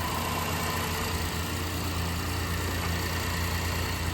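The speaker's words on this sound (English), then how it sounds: "Motor starts right up without a problem." A 2017 Acura MDX with a 3.5 liter V6 idles steadily close by, a constant low engine hum with light vibration and no voices.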